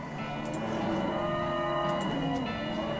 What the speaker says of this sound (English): You hear ominous mooing.